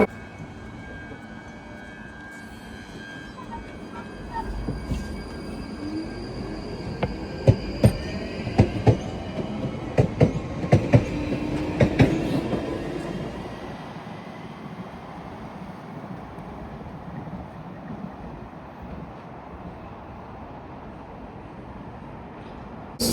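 A London Underground Northern Line train running, heard from on board as a steady low rumble with rattling, clacking wheels over joints and rising squeals mid-passage, then settling back to a smoother drone.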